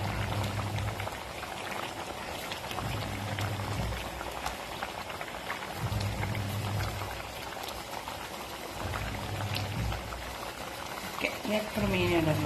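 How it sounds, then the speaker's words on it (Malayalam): A coconut fish curry mixture bubbles steadily in a pot, a continuous close simmering gurgle with soft popping throughout and light clinks near the end. "കറിയുടെ കൂട്ടെല്ലാം നന്നായി തിളച്ച് പച്ച ചുവയൊക്കെ മാറി വന്നിട്ടുണ്ട്."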